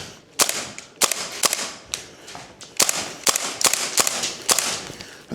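WellPro AK12 gas blowback airsoft rifle firing a series of sharp, loud single shots at an uneven pace, each crack followed by a brief clatter of the blowback action, with no talking.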